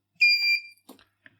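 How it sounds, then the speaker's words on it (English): A short, shrill electronic buzzer sounds once for about half a second, followed by a few faint clicks in otherwise quiet surroundings. "I did hear a buzzer."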